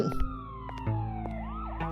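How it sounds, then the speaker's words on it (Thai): A police car siren wails in the video game Newspaper Day, its tone gliding steadily downward and then warbling, heard moderately near over a low background hum. "โอ้รถตำรวจอยู่แค่นั้น"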